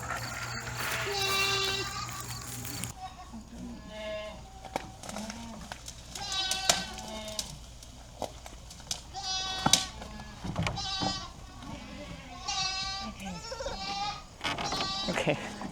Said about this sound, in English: I can't believe the goat kids got out again.